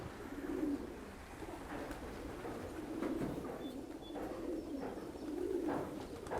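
Pigeons coo in a loft with large aviaries, soft repeated throaty coos rising and falling in a steady rhythm over a quiet background hum, close and moderately loud.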